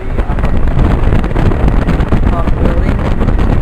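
An outdoor air conditioning compressor unit for an upper building runs with a loud, steady broadband roar and whoosh, close to the microphone and partly buffeted by wind.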